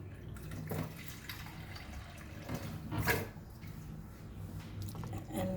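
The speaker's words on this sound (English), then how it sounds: "we can add little bit of half cup of water to this" Half a cup of water is poured into moong dal and rice khichdi in a pot, a soft splashing and trickling that comes in a few uneven bursts at close range.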